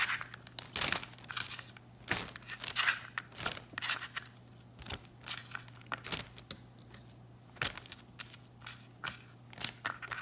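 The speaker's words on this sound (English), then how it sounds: "now we're gonna put it in a plastic bag" Cut carrots being dropped into a plastic bag in a home kitchen: quiet crinkling and rustling of thin plastic in irregular short bursts, with no talking.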